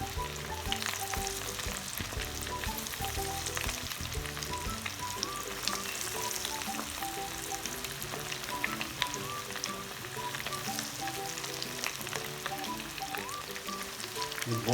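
Coated chicken pieces frying in hot oil for restaurant-style chilli chicken, a steady dense sizzle with crackling pops running continuously, fairly close and alone without talk.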